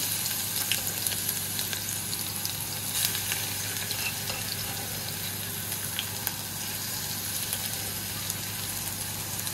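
Ginger and garlic fry in hot oil in a pan, giving a steady, close sizzle and crackle with occasional faint scrapes of stirring, unbroken throughout and without speech.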